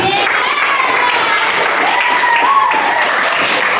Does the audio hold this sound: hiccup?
no